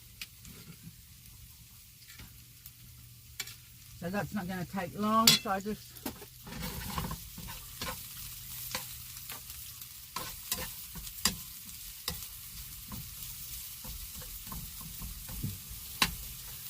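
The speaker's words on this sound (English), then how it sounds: "So now my pan's sizzling." Spinach sizzles steadily in extra virgin olive oil in a hot pan in a van kitchen, a soft crackling hiss running under a person talking, with occasional clicks of utensils.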